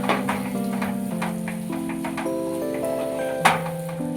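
Butter and cardamom powder are stirred into a mango barfi mixture in a pan, with light scraping and ticking spoon taps over a soft sizzle, all beneath steady background music.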